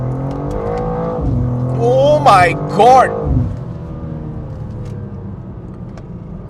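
A BMW G87 M2 with a 530 hp ECU flash accelerating hard on a road, engine note rising and climbing through two quick gear pulls over a steady cabin rumble, with an excited exclamation from inside the car.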